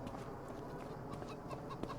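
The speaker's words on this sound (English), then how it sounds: "Oh, there's actually chickens over here." Faint chickens clucking softly in the background in Farming Simulator 25, a low continuous farmyard murmur with occasional small peeps.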